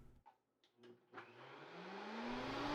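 A Vitamix blender holding soapy water and a couple of drops of dish soap starts with a few clicks and taps, then ramps up to its highest speed. Its motor whine climbs steadily in pitch and loudness into a close, roaring spin.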